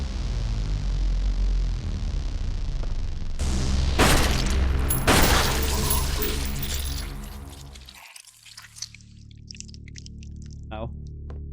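Gunfire in the horror game Flesh Made Fear, with a few loud bursts of shots and booms over a rumbling backdrop that then drops to a quieter space, while a voice talks throughout.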